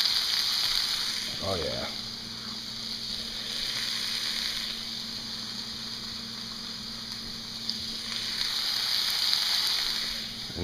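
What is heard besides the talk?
chopped amaranth frying in oil in a pan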